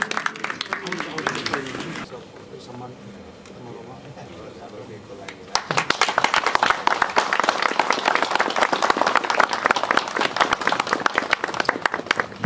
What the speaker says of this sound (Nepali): फेरि पनि दोहोरा ताली